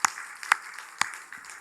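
Applause from a church congregation during a Sunday service, a few sharp claps standing out over a thin, scattered patter rather than full sustained clapping, fairly quiet and brief.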